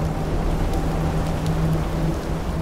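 Heavy rain pouring steadily in the horror video game In Sound Mind, aboard a ship, a dense constant wash of drops with a low rumbling undertone, no voices.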